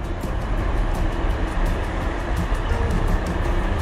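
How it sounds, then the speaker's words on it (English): A heavy freight train rumbles past close by a canal towpath, a steady low roar with rhythmic clicking of wheels over rail joints, no voices. "there's a freight working going past"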